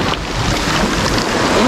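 Waves of the Ionian Sea wash against a beach near Vlora, Albania, a steady surf hiss mixed with buffeting wind on the microphone, continuous and fairly close, with no one speaking.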